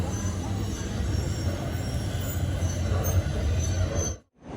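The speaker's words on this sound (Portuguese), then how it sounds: "Acabei de descer aqui do metrô" A metro train at RAI station in Amsterdam gives a steady, loud rolling rumble with rail noise filling the platform, then cuts off abruptly near the end.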